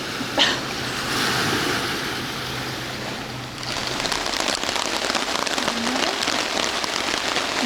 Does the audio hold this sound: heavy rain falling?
yes